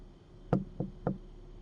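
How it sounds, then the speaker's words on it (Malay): Three sharp knocks on a door in the Security Booth game, the first loudest, spaced unevenly and heard alone against quiet background. "Oh, ada orang ketuk tadi."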